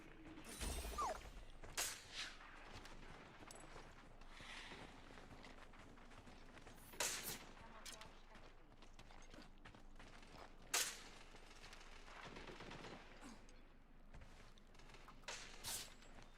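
Gunfire in the video game Scavengers comes in a few sharp, scattered shots and bursts, fairly faint and separated by quieter stretches of ambient game sound.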